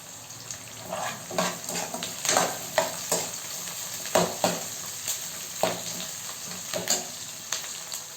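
Green chilies and crushed garlic sizzling in hot oil in a pan while tempering a raw mango dal, a steady close crackle broken by repeated stirring scrapes and soft clinks.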